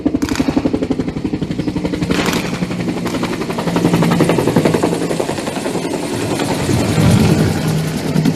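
Philippine Air Force helicopter flying overhead during a military exercise, its rotor beating in a loud, rapid rhythmic chop that swells and fades slightly as it passes.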